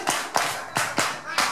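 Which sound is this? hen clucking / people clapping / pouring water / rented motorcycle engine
people clapping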